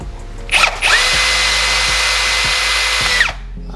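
Tekiro XV 20V cordless drill motor whirs at a steady high pitch for about two and a half seconds, with a brief rev-up burst before it settles, then winds down; close and loud, heard alone.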